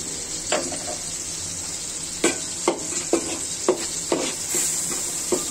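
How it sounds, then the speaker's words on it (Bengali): Ginger, garlic and turmeric sautéing in a pan for a koi fish fry, a steady sizzle under a run of sharp clinks and scrapes as the mixture is stirred. "কারণ এখানে আদা আছে, রসুন আছে, এগুলো ভালো করে কষিয়ে নিতে হবে।"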